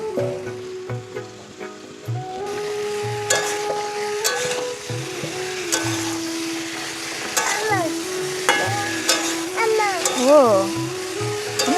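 Cauliflower fries in a pan with a continuous bright sizzle, steady and close, while a spatula stirs and scrapes at intervals and a faint tonal background drone with music-like tones runs underneath.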